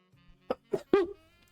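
A single sneeze builds through two short breathy catches and ends in a sharp voiced burst. It is close and moderately loud in an otherwise quiet room.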